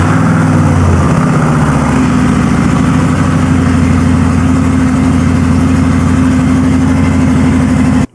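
Bagger motorcycle engine fires up after priming and settles into a loud, close, steady idle with a throaty, rapidly pulsing rumble that runs unbroken to the end.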